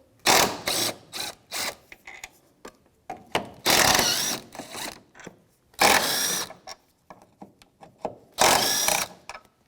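A ratchet with a 14mm socket works engine mount bolts loose on a 2001-2007 Volvo V70, giving quick clicking runs and louder turning bursts, close and alone with brief pauses.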